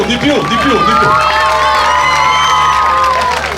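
A crowd at a regional Miss Italia beauty pageant final cheers and claps, with shouts and whoops rising over the applause. Voices carry loudly throughout, and the sound is close and energetic.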